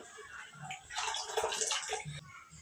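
Boiled cauliflower being rinsed and washed in water by hand, with splashing and sloshing that swells in the middle, plus low bumps of a pot or bowl underneath.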